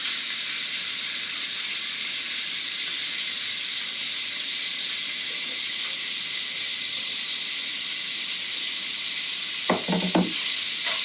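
Red onion and red pepper fry with sausage meat in a pan, giving a steady close sizzle and hiss that holds evenly, broken near the end by a couple of brief clatters of utensil against pan.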